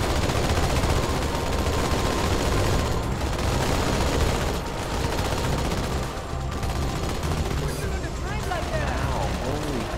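Heavy sustained gunfire and machine-gun bursts from a vehicle turret manned by a marine in Halo 2, loud and dense throughout with combat noise layered on top.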